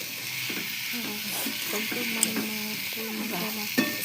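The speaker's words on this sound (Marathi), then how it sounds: "सगळं एकजीव करून घेऊ." Potato and eggplant curry sizzles in a pan while a spoon stirs and scrapes through it, with steady frying hiss under repeated scraping strokes and a couple of sharp clinks near the end.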